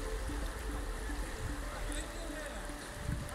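A river in Papua New Guinea rushes steadily past where a road crossing once had a bridge, a continuous broadband wash of flowing water with a faint low rumble beneath it.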